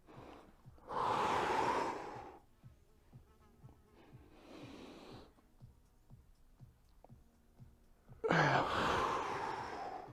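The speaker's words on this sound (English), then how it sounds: "And inhale. And exhale. And inhale. And keep moving with your own breath here." Slow, deep breaths during a yoga workout, with long audible exhales through the mouth near the start, middle and end, separated by quieter stretches with faint background noise.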